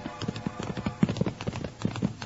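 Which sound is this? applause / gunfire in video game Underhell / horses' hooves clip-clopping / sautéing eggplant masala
horses' hooves clip-clopping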